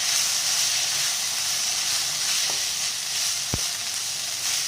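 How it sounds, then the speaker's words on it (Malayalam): Cooked rice ada for palada payasam frying in hot ghee, giving a steady close broadband sizzle throughout with one brief sharp clink midway; no talking. "നെയ്യ് നല്ലതുപോലെ ചൂടാകുമ്പോൾ അതിലേക്ക് കുക്ക് ചെയ്ത് വെച്ചിരിക്കുന്ന അട ഇട്ട് കൊടുക്കാം."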